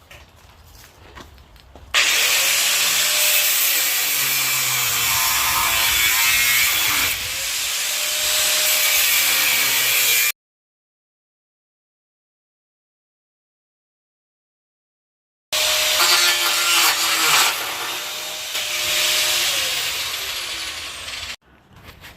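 Cutting tool grinding through the welds on the crash bar of a 2007 Dodge Charger R/T AWD with front end damage, two long loud harsh abrasive bursts separated by several seconds of silence.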